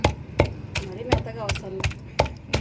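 A stone pestle pounds tomato and mint chutney in a stone mortar: sharp, regular thuds about three per second, close and distinct, with faint scraping and grinding between the strikes.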